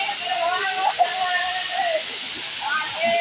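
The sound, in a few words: waterfall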